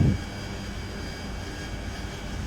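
Jet engine of an AV-8B Harrier in DCS World easing back on throttle, a steady low roar and hiss holding at moderate level throughout with a brief thump at the start and no voices.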